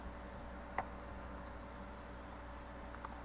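Sparse key presses on a computer keyboard while entering numeric data, a few light isolated clicks over a steady background hum, no speech.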